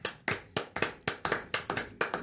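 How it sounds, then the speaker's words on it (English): A small group of podcast hosts gives a round of applause, about a dozen distinct, close claps in a loose irregular rhythm, with little else around them. "Round of applause."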